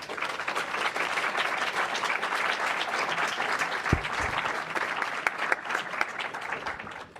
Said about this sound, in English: I think we all should give the panel a big round of applause